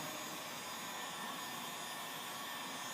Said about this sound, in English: I'm going to start applying my heat from the underside, just getting that airflow